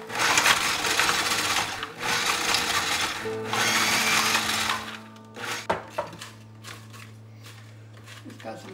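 A food processor grinds chili ingredients in loud whirring bursts that start and stop, with a steady lower motor hum continuing after the blade pauses and a few clicks near the end.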